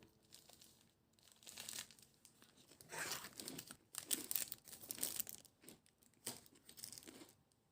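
A Kinder Bueno chocolate bar, wrapper crinkling and tearing, then crisp wafer crunching in bursts as it is bitten and chewed, fairly quiet and close with no voices.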